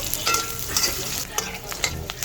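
Ginger, garlic and onion sautéing in a pan for pork soup, a steady close sizzle broken by repeated scraping stirs of a utensil, with no voices.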